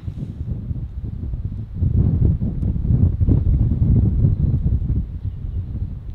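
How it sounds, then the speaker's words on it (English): Wind buffets the microphone outdoors on a golf course, a low, rumbling roar that swells in gusts and stays loud for most of the stretch, with no speech. "It's a bit windy, isn't it?"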